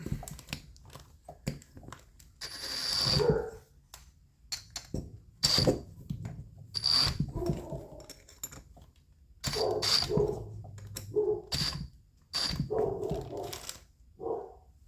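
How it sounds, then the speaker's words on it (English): A dog barks repeatedly in bursts during a small chainsaw engine rebuild in a workshop, the barks loud and fairly close, with short pauses between volleys and some clattering in the background. "while you listen to my dog bark."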